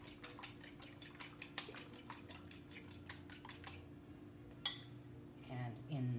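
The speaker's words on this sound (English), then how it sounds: "So, swiftly beat the eggs." Eggs beaten swiftly in a bowl with a utensil for a meatloaf mixture, a quick run of clinking taps for about four seconds, then a pause, a single sharp clink and some low rustling near the end.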